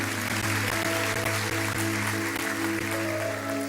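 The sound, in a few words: applause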